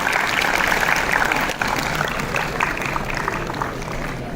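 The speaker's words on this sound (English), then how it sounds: "Big applause, ladies and gentlemen." Dense, steady applause from a conference audience fills the room for several seconds, with a brief dip partway through before the clapping carries on at nearly the same level.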